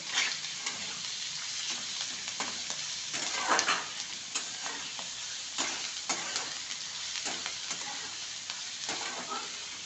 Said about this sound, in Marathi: चांगलं मिक्स करून घेते गॅस आपला फुलच आहे कारण कांदा लवकर मऊ होतो